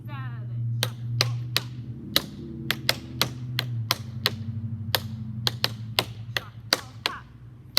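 Tap shoes striking a hard floor during shuffle steps in a tap dance lesson: about twenty crisp, close clicks in an uneven rhythm over a low steady hum, with a faint voice underneath.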